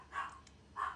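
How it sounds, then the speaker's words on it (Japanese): A dog lets out two short barks about half a second apart, faint and distant in a quiet indoor room. "めっちゃ吠えてんだけど"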